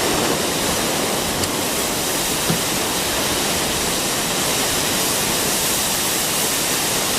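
Fire hose spraying water onto a fire, a loud steady hiss and rush that does not change for the whole stretch, with no voices.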